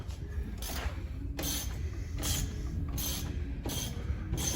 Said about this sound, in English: And then Adam, right now, he's putting the mounting bolt on one of the rear shocks